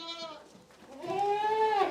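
Goats bleat on an Indian goat farm raising Sirohi and Ajmeri breeds, with a short bleat followed by a longer, louder, wavering cry close by.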